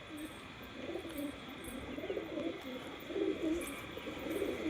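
Pet pigeons, including a large female, coo in soft repeated low phrases close by, the rounded calls rising and falling over a faint background hum without talk.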